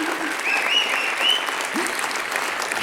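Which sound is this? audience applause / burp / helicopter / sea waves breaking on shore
audience applause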